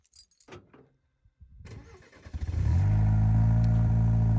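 A 2023 Chevy Colorado truck with an Overland Series exhaust starts up after a few quiet clicks and knocks, then settles into a loud, deep, steady idle rumble close by.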